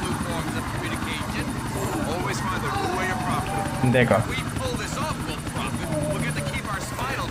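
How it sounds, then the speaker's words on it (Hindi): A helicopter flies in the video game GTA: The Ballad of Gay Tony, its rotor a loud, steady chopping drone throughout while someone talks over it. "चलो हम लोग चॉपर को वापस ले जाते हैं"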